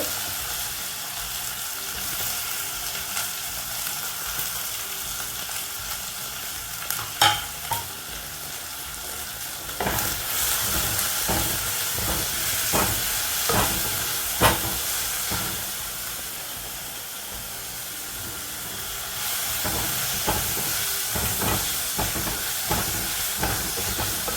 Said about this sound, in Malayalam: ഉള്ളിയൊക്കെ ഇവിടെ വഴന്ന് വന്നിട്ടുണ്ട്